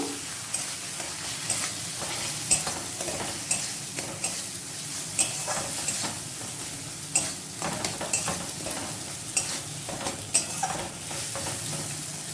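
Mutton masala with yogurt being stirred and sautéed in a pan over low heat, a steady soft sizzle broken by repeated scraping strokes of a spoon at an uneven rhythm, close and alone.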